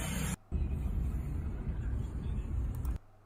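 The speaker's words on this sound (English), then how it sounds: "Turn the sound down. You can hear the generator." Gas-powered generator running in the back of a vehicle to charge an electric vehicle, a steady low engine drone heard through a window, nearly continuous with brief cutoffs at the start and end.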